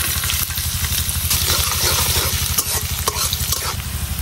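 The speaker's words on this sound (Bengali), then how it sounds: "এখন দিয়ে দিতেছি পেঁয়াজ আর রসুন।" Onion and garlic sizzle and fry in hot oil in a pan, a loud steady crackling hiss with stirring scrapes over it, close up and continuous, with no talking.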